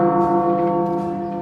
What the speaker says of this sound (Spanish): Allí, Eric les mostró las 30 enormes campanas